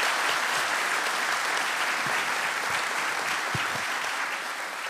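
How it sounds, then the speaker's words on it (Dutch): Loud, sustained applause from an evening audience welcoming Kees Holtkamp, an Amsterdam baker, on stage: a dense, steady wash of many hands clapping that holds at full strength for the whole stretch, with no voices over it. "Mag ik een heel hard applaus?"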